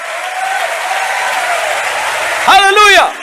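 Church congregation clapping together during a sermon, a dense wash of applause lasting a few seconds, with a loud voice rising over it at the end.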